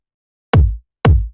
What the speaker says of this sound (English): just a super simple kick